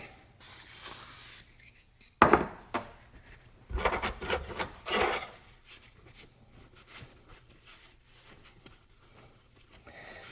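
Rally suspension spring rings are scrubbed clean by hand in a workshop, giving bursts of dry rubbing and scraping strokes, some loud and close, with quieter gaps and a low steady hum beneath.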